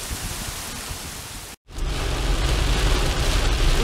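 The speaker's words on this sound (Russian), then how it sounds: "Смотрите, какой сильный дождь у нас." Heavy rain pours in a dense, loud hiss with a brief cutout, then continues steadily and strongly.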